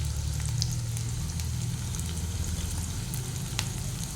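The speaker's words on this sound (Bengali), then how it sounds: "তারপর ডুমো ডুমো করে কেটে রাখা পেঁয়াজগুলোকে আমি দিয়ে দিলাম।" Diced onions fry in hot mustard oil in a kadai, giving a steady, close, dense sizzle that holds evenly throughout with a few faint crackles and no talking.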